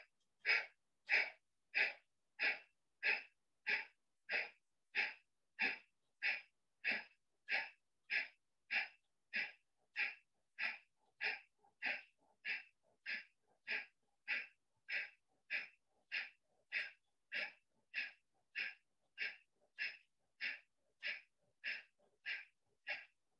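Kapalbhati yoga breathing exercise: a long, steady train of about forty sharp, forceful nasal exhalations at an even quick rhythm, close and fairly loud with no talking.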